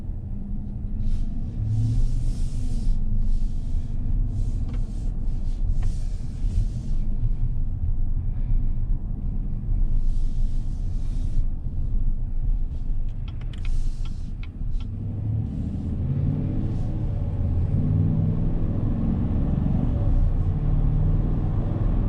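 A 2021 GMC Sierra 1500 pickup with the 5.3-litre V8 drives along, heard from inside the cab as a steady, loud low rumble with a few brief higher-pitched bursts on top.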